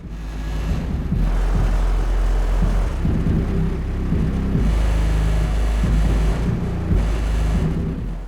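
An 18-inch subwoofer driven by a car audio amplifier pumps deep, sustained bass notes that rumble loudly and steadily, shifting pitch in held blocks with no talk over them.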